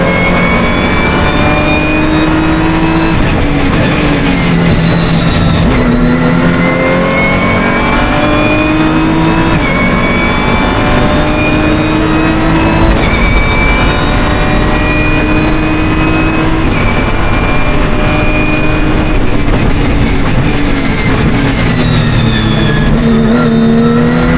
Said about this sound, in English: There's a couple of the TCR Cupras sandwiching Nick Casey, Darren Ball